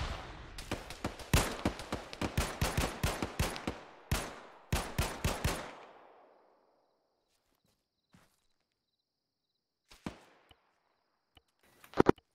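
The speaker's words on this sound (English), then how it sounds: "What the fuck is shooting at us?" Rapid gunfire in a military video game, a dense string of sharp cracking shots for several seconds, then silence broken by a few isolated distant shots.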